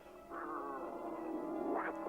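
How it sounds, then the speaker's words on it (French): A black cat lets out one drawn-out meow that swells and rises in pitch at its end, fairly soft and alone against a quiet background. "Un chat noir! Ça porte malheur!"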